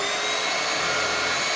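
Bissell Adapt Ion cordless stick vacuum running steadily with a loud, even motor whine and airflow hiss, close up and continuous with no talk.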